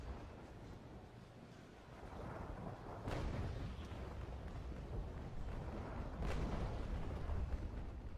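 Cannon fire from a distant enemy ship, the Lynx, in a naval video game: two faint, far-off booms several seconds apart under a constant windy, rushing background.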